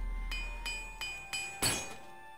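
Four sharp metallic clinks of a repair hammer striking armour in Elder Scrolls IV: Oblivion, evenly spaced, bright and ringing, with the last strike loudest and the sound alone, with no voices over it.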